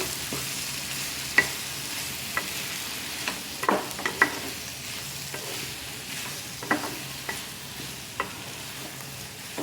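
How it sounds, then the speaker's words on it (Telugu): Tomatoes sizzle in a frying pan for a tomato and dried shrimp curry, a steady hiss broken by intermittent scraping stirs and taps of a spoon, with no talking. "టమోటాలు వేసుకోవాలి వేసుకొని ఇలా గంట మిక్స్ చేసుకోవాలి"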